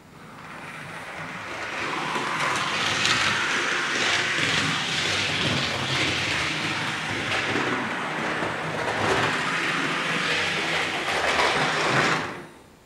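A PIKO H0 model ST44 'Stonka' diesel locomotive runs a loop on model railway track, giving a steady, continuous rolling whir and rumble at even loudness for about twelve seconds before it stops abruptly, with no talking.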